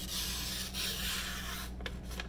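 A steel knife edge rasps against an abrasive sharpening stone in steady gritty strokes, close up, with a few sharper scrapes near the end.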